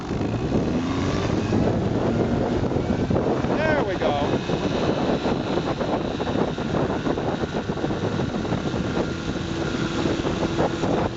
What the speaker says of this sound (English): This motor actually has a weedless propeller on it.